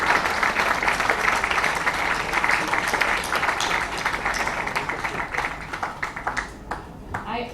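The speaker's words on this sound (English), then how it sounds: "Let's give a big round of applause to our young novelist ZUNI." Audience applause at a Bollywood book launch for a young novelist, a dense, steady wash of clapping that runs throughout and thins out slightly toward the end.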